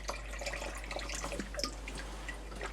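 Milton bleach is poured into about a litre of water, making small trickling and dripping splashes over a low steady hum, close by with no talking.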